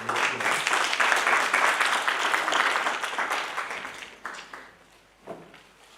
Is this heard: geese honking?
no